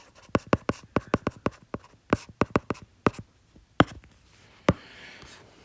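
A marker or pen taps and scratches out a math solution on a board in quick, irregular strokes, loud and close, with short pauses between bursts and no talk.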